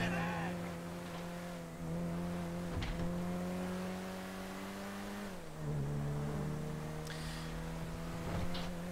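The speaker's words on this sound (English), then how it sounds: "Excuse me, my car is fucked. Oh yeah, my engine is destroyed." A damaged car engine in GTA 5 drones steadily with layered harmonic tones throughout, its pitch dipping and recovering mid-way, with a few brief scrapes or skids on top.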